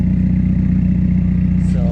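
A 2017 Subaru WRX Premium engine idles loudly and steadily up close, with a continuous low throb and no voices over it.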